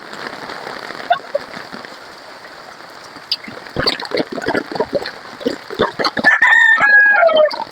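A rooster crowing amid heavy rain during a typhoon, the crow rising clearly near the end over the steady patter, with scattered other sounds and clucks in between.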